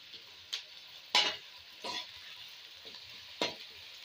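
Ginger garlic paste frying with onions in a pan for chicken karela, stirred with a spoon: a soft steady sizzle broken by several brief scraping stir strokes, close and quiet, no voices.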